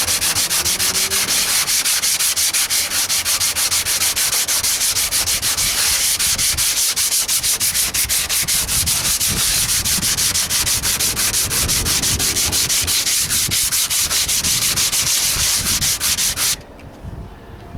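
A 1968 AMX hood is block sanded by hand in steady, continuous rasping strokes, loud and close, for about sixteen seconds before stopping abruptly.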